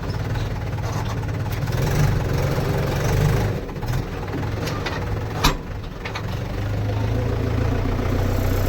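A Mahindra 475 tractor hauling a heavy load on a farm runs with a steady low engine drone throughout, with a brief louder knock midway.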